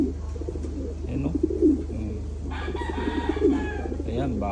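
Racing pigeons coo in low, repeated throaty phrases, close by, with a steady low hum and scattered bird chatter in the background.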